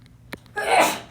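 A single sharp human sneeze in a classroom during a precalculus lesson, a brief intake then a loud burst of breathy noise, close and alone.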